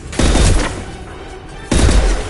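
Gunfire in the video game Mass Effect 2 comes as two loud, close bursts of rapid shots with a quieter gap between them.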